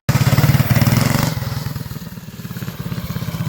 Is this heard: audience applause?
no